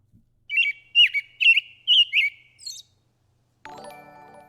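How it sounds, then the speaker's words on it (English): Black-throated blue warbler song: a series of five or six slurred, buzzy whistled notes delivered close and clear, followed by silence and then a different electronic tone. "listen to the black-throated blue warbler with a classically buzzy sound"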